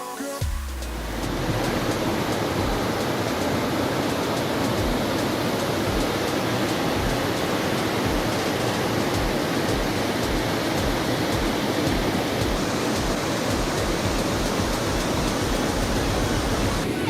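A waterfall in a provincial park on Vancouver Island roars as a steady, loud, broadband rush that swells in after the first second and continues unbroken, with no voices.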